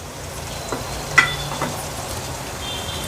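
Thick masala gravy for a spicy suran (elephant foot yam) curry sizzles softly in a pan, a low steady frying hiss with a couple of faint stirring clicks.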